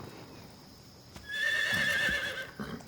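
A horse neighs in the Metal Gear Solid 3 video game, one clear whinny rising and trailing off over a quiet ambient background, with no talk.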